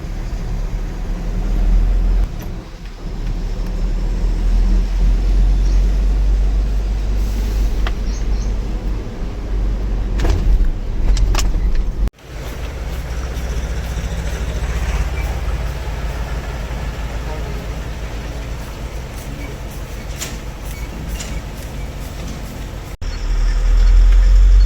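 A loaded goods vehicle runs on diesel along Channagiri road with a continuous low engine drone and road rumble heard from inside, plus a few rattles and brief jolts.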